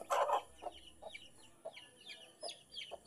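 A native Bangladeshi hen, kept for breeding, clucks softly near her five chicks: one louder call at the start, then a steady series of quiet, evenly spaced clucks and faint high peeps, with no talking.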